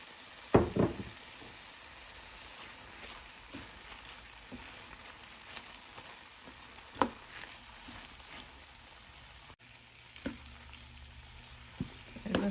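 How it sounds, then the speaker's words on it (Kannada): Spinach cooks on softened tomato in a pan for palak chicken, a low, quiet sizzle with a few sharp knocks and scrapes of a spoon scattered through, no voices present. "ಸೊ ಈಗ ಇದಕ್ಕೆ ಪಾಲಕ್ ಹಾಕ್ಕೊಳ್ಳೋಣ, ಪಾಲಕ್ ಸೊಪ್ಪು."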